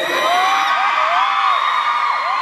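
A dense concert crowd at a Future Park anniversary show screams and cheers continuously, with high-pitched whoops and squeals rising over a loud, sustained roar.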